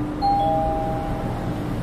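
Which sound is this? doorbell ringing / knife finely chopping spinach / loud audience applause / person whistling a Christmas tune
doorbell ringing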